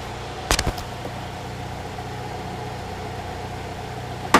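A Saturn Ion's 2.2-liter Ecotec engine idles smoothly under an open hood, a steady low hum, with a couple of brief clicks near the start and a short knock at the end.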